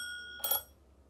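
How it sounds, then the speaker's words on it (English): A Klaverblad bell on the handlebar of a Puch Maxi moped gives a single bright ring, short and close, decaying quickly into quiet. "Klaverblad bell."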